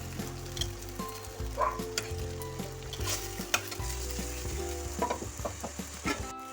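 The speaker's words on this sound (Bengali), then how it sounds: "এখানে একটু নাড়াচাড়া করে নাড়িয়ে নেবো" Flattened rice tiffin seasoned with Kashmiri chilli powder being stirred in a frying pan, steady sizzling with repeated scraping and clinking strokes of the spatula, close and continuous with no voices.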